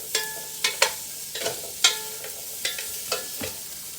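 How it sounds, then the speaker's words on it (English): A spoon stirs diced onion and vegetables in a warming frying pan, giving a string of sharp scraping clinks at an irregular pace over a faint low sizzle, close and moderately quiet. "I'll give that a stir."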